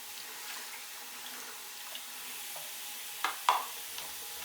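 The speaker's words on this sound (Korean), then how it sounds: "먼저 흐르는 물에 몇 번 패드를 짜줘서 안에 있는 세제를 다 씻어냅니다" Running tap water splashes steadily over a polishing pad as it is wrung out by hand to rinse out detergent, a soft continuous hiss with a couple of sharper squelches and drips near the end.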